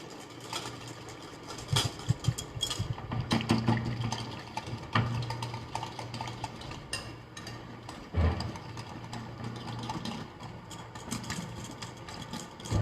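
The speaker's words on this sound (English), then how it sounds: "so we'll just stir in here some oil and do a high-speed whisking" Oil is whisked at high speed into a salad dressing, producing a rapid, uneven whirring and sloshing with bursts of louder activity throughout.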